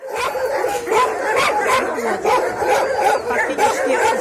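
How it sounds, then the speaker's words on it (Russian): Several Yakutian dogs in an outdoor enclosure, barking and yipping in quick overlapping bursts, loud and close, with whimpers mixed in and a steady busy rhythm. "Умницы и красавицы, якутские собаки."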